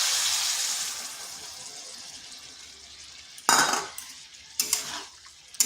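Milk pours into a pot of simmering bottle gourd, a soft steady wash of liquid followed by two sharp bursts of splashing and stirring, with a light clink at the end.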